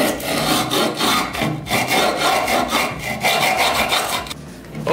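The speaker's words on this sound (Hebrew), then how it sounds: "אני מתחיל לשייף את הגריפ טייפ מסביב לדק" A screwdriver rasps back and forth along the edge of scooter grip tape on a stunt scooter deck, a gritty scraping in quick repeated strokes, close and fairly loud, with a short pause near the end.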